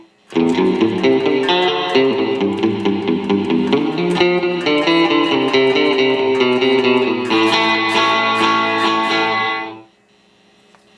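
Electric guitar playing through an Amplitube 5 reverb, a loud, dense run of distorted chords and notes that stops abruptly near the end with its reverb tail cut off and no lingering decay, no voices.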